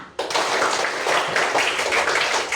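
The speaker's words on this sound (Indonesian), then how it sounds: "Tepuk tangan buat kita." A small class of children and a teacher burst into applause after a lesson, the clapping starting abruptly from quiet and holding steady and close.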